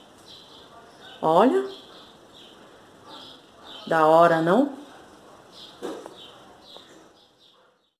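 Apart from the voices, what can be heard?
small birds chirping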